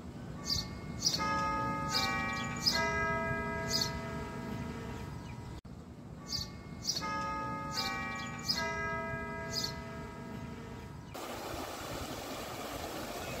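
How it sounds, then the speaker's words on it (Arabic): A large tower bell tolls repeatedly with long ringing overtones, strikes spaced about a second apart and rising again after a brief pause, over a steady low rumble, at Montaza palace grounds in Alexandria. "هسمعكوا صوت الجرس"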